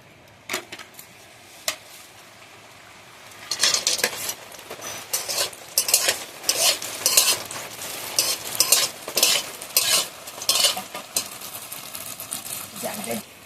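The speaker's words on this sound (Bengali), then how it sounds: "ঘিয়েতে আমি কিশমিশ আর বাদামটা ভেজে নেব।" Cashews and raisins fry in ghee, starting as a faint sizzle that swells into loud, irregular bursts of spattering and metal stirring against the pan, close by.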